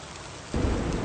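Heavy rainstorm with thunder: a steady wash of rain that suddenly swells halfway through into a loud, deep rumbling roar, continuous and close, with no voices.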